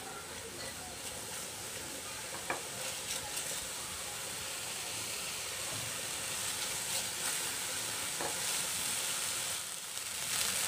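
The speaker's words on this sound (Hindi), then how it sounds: "इसको हाई फ्लेम पे फ्राई करके लेते हैं" Chicken tikka samosa filling frying over a high flame, a continuous soft hiss and sizzle with a couple of faint clicks, fairly quiet and steady throughout.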